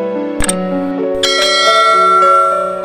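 Bright chiming bell tones ring as a notification sound effect, several struck notes layering into sustained ringing that fades out, with no voices.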